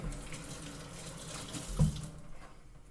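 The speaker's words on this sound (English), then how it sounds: "Wash my hands." Running water from a kitchen tap as hands are washed under it, a steady low splashing flow with one brief louder splash near the end before it fades.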